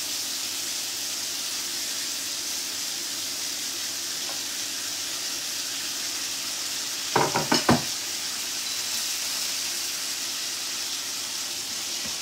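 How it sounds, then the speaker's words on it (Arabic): Onions frying in a pan for a cauliflower gratin, with a continuous loud hissing sizzle throughout, broken midway by a brief cluster of clattering spoon-on-pan stirring knocks. "ندير البصل نتاعي باش يتقلى"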